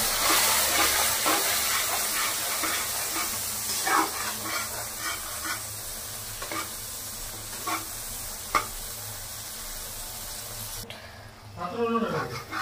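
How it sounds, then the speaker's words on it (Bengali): Masala paste for Bengali prawn malai curry sizzles and fries in a pan with a splash of milk, a steady close hiss broken by stirring scrapes, ending in a louder burst of bubbling. "একটু দুধ দিয়ে দিয়ে আবার মশলাটাকে কষাবো।"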